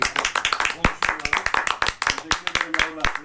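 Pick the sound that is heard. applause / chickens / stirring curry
applause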